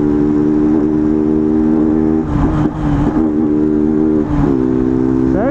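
A fuel-injected 160 cc motorcycle engine, warmed up, holds a steady droning idle, then gives a couple of short blips of the throttle with crackling pops near the middle, then a final rising rev, all close with no talk.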